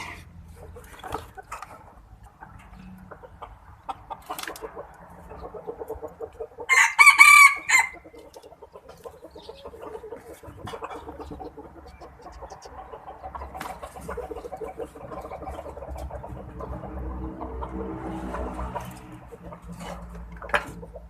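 An electronic chicken-calling device, tested after a run through a washing machine, plays a single loud rooster crow about a third of the way in, surrounded by quiet background rumble and faint handling noises.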